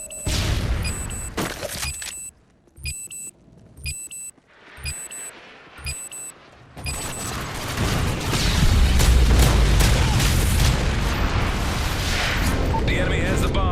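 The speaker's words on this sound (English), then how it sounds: "Friendly Moab incoming." Dropping a MOAB bomb in Call of Duty MW3 sets off a massive, long roaring blast that swells and rumbles for several seconds. Earlier there are sharp bursts of gunfire and game announcer voice lines, then the deep roar holds loudly to the end.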